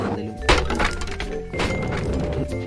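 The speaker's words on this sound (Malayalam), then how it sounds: "എൻ്റെ കാർട്ട് പൊട്ടി ഗൈസ്." A cart in the Roblox game crashes and breaks apart with heavy thunks and a cracking impact, loud and up close over continuous game noise.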